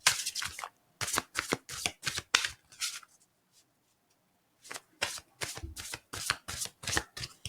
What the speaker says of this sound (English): I'll just do 2 more shuffles.